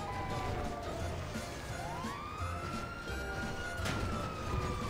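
A faint ambulance siren in GTA 5 Online, a rising and falling electronic wail sweeping steadily under low game ambience.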